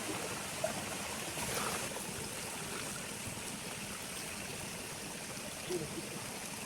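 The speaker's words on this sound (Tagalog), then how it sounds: "At pagkatapos pupunuin na nila ng tubig." Water pours steadily into a plastic spray can tank, a continuous broadband gushing rush with a few brief knocks, mixing pesticide for spraying flowering rice plants in a paddy field.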